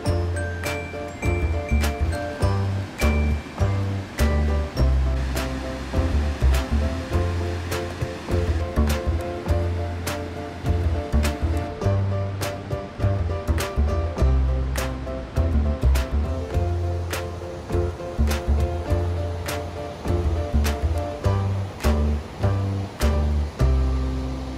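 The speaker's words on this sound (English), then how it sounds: "the Great Falls of Potomac River, with its powerful rush of water as it drops off" Powerful rushing water roars continuously from the Great Falls of the Potomac River dropping through a rocky gorge, with repeated sharp clicks and pops layered on top throughout.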